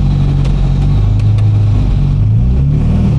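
A Honda Integra DC2 engine roars up close, holding a loud, steady rev with a throaty low drone and slight pitch shifts throughout.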